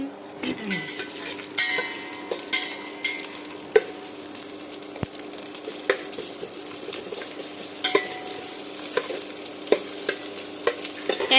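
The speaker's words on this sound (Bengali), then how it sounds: "তেলের মধ্যে পেঁয়াজ দিয়ে দিচ্ছি।" Onions sizzling in hot oil in a pan on an induction cooker, a steady soft frying hiss broken by clinks and scrapes of a utensil stirring against the pan, heard up close with occasional speech in the background.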